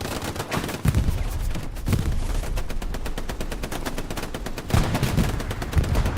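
Heavy gunfire from a Tiger tank and surrounding weapons in a World War II shooter game, a dense stream of sharp bangs and rapid bursts with louder booming shots standing out near the start and later on.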